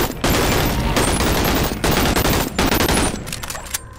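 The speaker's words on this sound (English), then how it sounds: "This gun sounds like shit." Gunfire from the VR game BONELAB comes in loud, dense automatic bursts with brief gaps, a heavy close rattle that fills the clip with no talking.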